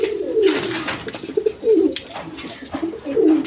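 A pair of racing pigeons coo close by in a few distinct rolling phrases, each a low throaty burble, with short gaps between them and no talking.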